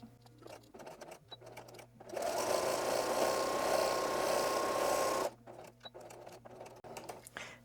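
A sewing machine runs in one steady burst of about three seconds, chain stitching homespun fabric for a rag quilt, loud and close, framed by quiet handling sounds before and after.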